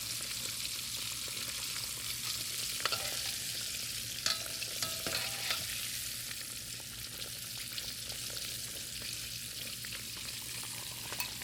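Chinese-style pork chops fry in a pan with a steady, crackling sizzle that runs throughout, with a few louder pops and stirring scrapes along the way.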